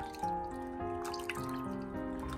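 Fresh mulberries swished and shaken by hand in a bowl of cleaning water, giving soft watery drips and sloshes over a steady background of light music-like tones.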